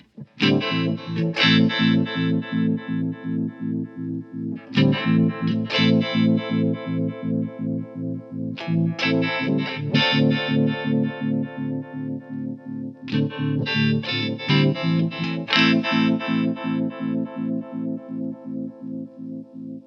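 A guitar runs through a Spaceman Effects Delta II harmonic tremolo set midway for lopsided combinations, playing strummed chord phrases in four loud sections with uneven, throbbing pulses in the volume.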